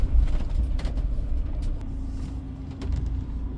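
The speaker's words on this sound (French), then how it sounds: "on a laissé passer le camion poubelle" A garbage truck rolls past on a winding road through a Moroccan gorge, its heavy engine a low, steady rumble with a few faint clanks, at moderate distance and without speech.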